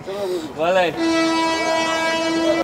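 A long, steady train horn blares loudly for a couple of seconds at Nabadwip Dham railway station, preceded by a voice speaking over station noise.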